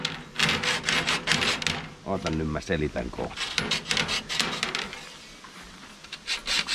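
Hand woodworking indoors, cutting bevels into wood: rapid rasping, rubbing strokes in bursts, close and fairly loud, with people talking over parts of it.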